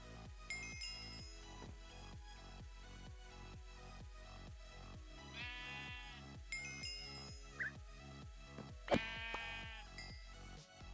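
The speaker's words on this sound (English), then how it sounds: "Sheep thinks it can just come around and spawn on my grass." Sheep in a Minecraft Modern Skyblock 3 modpack give a few short, wavering bleats over a steady, ticking rhythmic backdrop, faint and occasional across the stretch.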